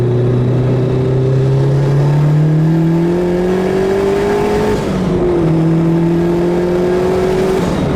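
Turbocharged B20B-swapped 1995 Honda Civic EJ coupe revving steadily, its engine tone climbing through the gears, dipping briefly and rising again, loud and close with a continuous whirring drone and no talk.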